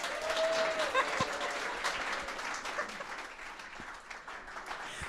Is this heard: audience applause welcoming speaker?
yes